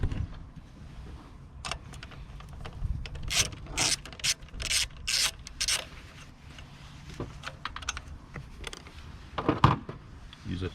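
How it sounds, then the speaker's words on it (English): A 10mm spanner undoing a hidden nut on a Peugeot 407 2.0 HDI engine, with quick clicking ratchet-like bursts and scraping metal sounds, fairly close and moderate in level. "Use a 10mm spanner here to undo the nut, which is hidden a little bit."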